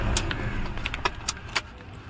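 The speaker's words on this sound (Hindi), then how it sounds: "और चाबी निकालने के बाद" Keys jingle and clink a few times as a car key is pulled out of a Toyota Innova ignition, close and fairly quiet over a faint background hum.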